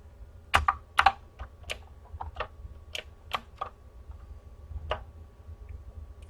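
Computer keyboard keys are pressed in a sparse, irregular series of crisp clicks, close and fairly quiet, with a faint hum underneath and no talking.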